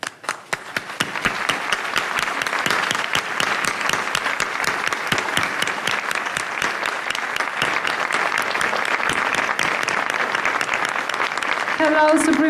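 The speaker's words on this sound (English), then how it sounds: "let's give a warm round of applause for the most generous Supreme Master Ching Hai." Warm, sustained audience applause for Supreme Master Ching Hai at an event in Mexico, many hands clapping steadily at close range for about twelve seconds, with a faint tonal sound near the end.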